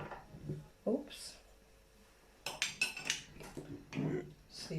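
A spoon pounding and pressing shredded red cabbage down into a glass jar, a few sharp clinks and knocks, with soft talk between them, close up.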